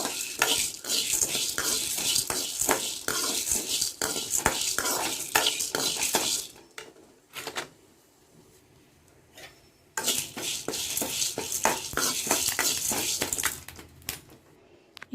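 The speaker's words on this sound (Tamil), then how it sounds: "மீடியம் ஃப்ளேம்லேயே வச்சு பொன்னிறமாக ஆகிற வரைக்கும் வறுத்து எடுத்துக்கோங்க" Lentils being dry-roasted in a pan over a medium flame for paruppu podi, stirred with a utensil in bursts of rapid scraping and rattling. The stirring pauses into a quiet stretch, then resumes, close and clear.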